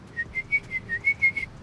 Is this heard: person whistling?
yes